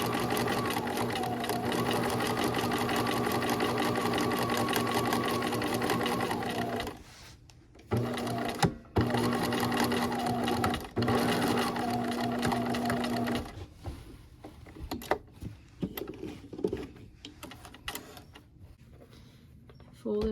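A sewing machine stitches dryer sheet quilting in long steady runs of fast mechanical whirring and needle clatter, stopping and restarting several times, ending in shorter bursts with handling noises; speech is also present.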